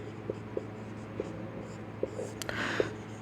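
A pen scratching across paper during a Hindi geometry lesson, with short separate strokes at an uneven pace under quiet background hum, ending in a faint breathy voice.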